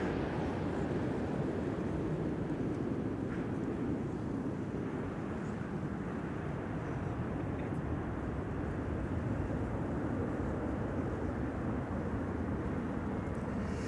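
A Transavia airliner arriving from Alicante makes a steady, distant broadband rumble at Schiphol that holds evenly throughout, with no talk.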